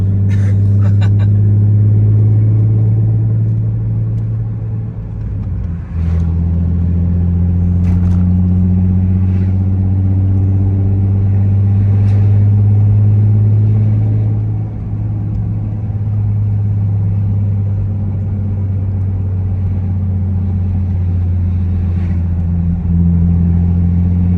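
A 2008 Saab 9-3 Aero convertible with a built motor pulls at full throttle, a loud sustained engine drone with rising harmonics and a brief break near five seconds, heard close from inside over road rumble.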